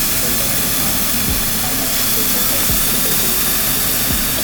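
Yakiniku meat sizzles on a grill with a dense, steady crackling hiss that fills the whole stretch, loud and close, with a few soft low thumps underneath.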